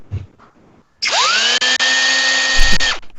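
Power drill spinning up sharply and running at a steady high whine for about two seconds with a couple of brief cutouts, then stopping, preceded by faint background noise.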